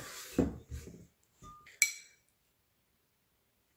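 Chopped avocado and corn pieces tumble into a bowl in a few soft thuds, followed by a sharp clink of utensil against the bowl, then silence.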